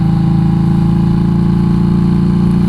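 A motorcycle fitted with a loud aftermarket exhaust idles steadily, a deep, even, throbbing rumble held close and loud throughout, with no talk.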